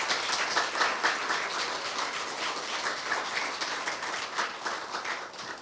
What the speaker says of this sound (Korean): 기조연설을 해주신 반기문 총장님께 다시 한번 큰 박수 부탁드립니다.